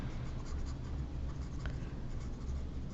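A board is wiped clean during a Portuguese-language lesson on number systems, giving a soft, steady rubbing and scraping that runs the whole time at low volume, close by, with no talk.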